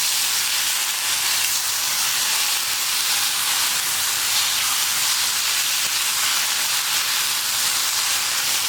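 A gas stove burner roars under a pan of dal and snake gourd, giving a steady, even hiss close by that holds without change throughout.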